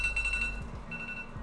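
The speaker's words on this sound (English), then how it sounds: "That is the timer for the pizza." A kitchen timer beeps for a microwave pizza, a short run of faint, high electronic alarm tones over a low background hum, with no one talking.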